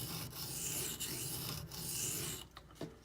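A Benchmade Griptilian knife with a D2 steel blade is drawn over a sharpening stone, making a steady, close gritty rasping that runs continuously, with a few brief breaks between strokes near the end.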